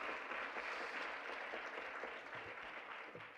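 Audience applause at a lecture on nature-based solutions, a faint, even patter of many hands clapping steadily in a hall, tapering slightly toward the end.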